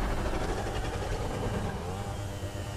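Motorcycle engine in GTA 5 Online on PS4, an Abate 800 bike, holding a steady, loud mid-pitched drone throughout with slight shifts in pitch, close and continuous.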